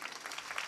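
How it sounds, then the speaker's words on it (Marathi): A kirtan audience claps in a faint, distant patter of scattered hand claps over a brief moment. "टाळ्या वाजवा ना जोरदार."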